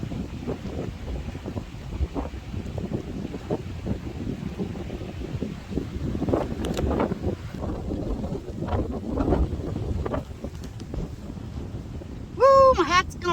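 Strong wind buffets the microphone on a lakeshore beach at a nature preserve with dunes and a lighthouse, a steady loud roar with gusts, and someone talks over it throughout.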